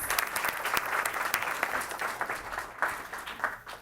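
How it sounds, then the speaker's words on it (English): Applause at a Board of Education meeting honouring a guest, a modest room of people clapping, with sharp individual claps standing out, uneven and moderately quiet over a few seconds. "Please give him a round of applause"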